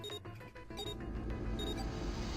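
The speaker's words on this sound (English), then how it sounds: "The beeping stopped." A few high electronic alarm beeps from a video game sound over a low, steady rumbling hum.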